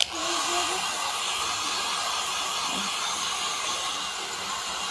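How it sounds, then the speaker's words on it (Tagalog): A handheld hair dryer blows on wet hair in a steady, loud, broadband whoosh that runs unbroken for the whole stretch without talking. "mag-blower sa akong buhok kay basa"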